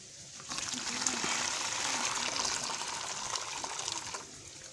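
Water is poured slowly to dilute caustic soda for cleaning a car radiator, a steady gushing fill that runs a few seconds at close range and then stops.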